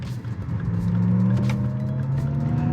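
A 2023 Lexus RZ450e electric car accelerates harder from inside the cabin, a steady rising drive whine and road rumble that hold loud and even throughout, with no talk.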